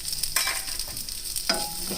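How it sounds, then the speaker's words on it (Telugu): Onions fry in butter in a pan with a close, crackling sizzle, while two quick scraping stirs of a spatula cut through the hiss. "ఆనియన్ కూడా వేగుతున్నాయి కదా."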